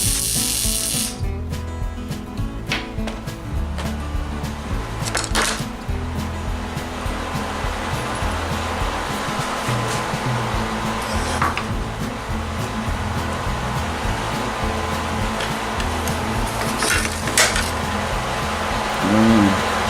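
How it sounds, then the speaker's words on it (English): Welding small ball bearings onto a big ball bearing for a piece of metal art, a continuous buzzing, crackling arc hum holding steady for the whole stretch, close and loud with no talk. "I'm going to take a couple of these small ball bearings and weld them on to the big ball bearing."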